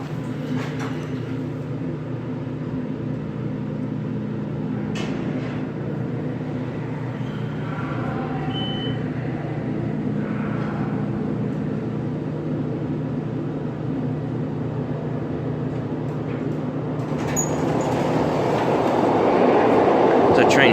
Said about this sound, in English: There's a train coming from somewhere. Oh, from the south.